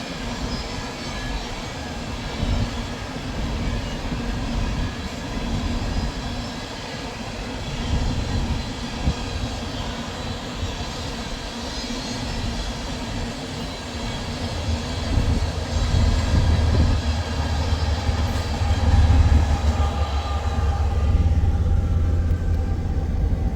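A long freight train rolls past at Pacific Junction, Iowa, with the rear DPU locomotive arriving at the end, a steady wheel rumble and clatter that deepens into a louder low engine drone in the final stretch.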